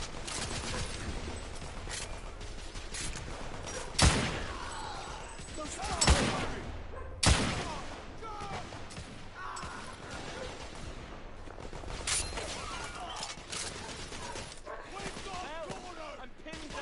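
Gunfire in The Order: 1886, a sustained crackle of rifle volleys with several sharp, loud shots standing out at intervals, mixed with shouting voices and battlefield clutter.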